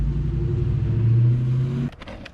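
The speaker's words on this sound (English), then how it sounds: "Sorry about the car noise." A car passing by on a roadside, a loud steady engine rumble with a rising hum that drops away after about two seconds, followed by a few faint clicks and knocks nearby.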